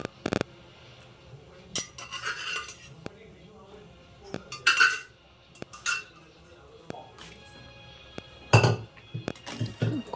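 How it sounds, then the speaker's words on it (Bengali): Bottle gourd is stirred into payesh in a metal pot, a spoon knocking and scraping the sides in irregular clinks, loud and close, with someone speaking between the strokes. "লাউটা মিশিয়ে নিলাম।"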